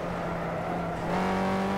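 A BMW M6 engine drones steadily while driving in the rFactor racing sim, a close, even hum that rises slightly in pitch partway through, with no talking.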